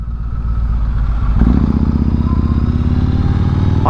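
A big, heavy motorcycle engine runs loud and close throughout, a steady deep throbbing rumble with a mechanical clatter on top, rising slightly midway as it is ridden.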